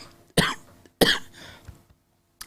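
Two sharp, loud coughs about half a second apart, the second trailing into a rougher rasp, followed by quiet and a faint click at the end.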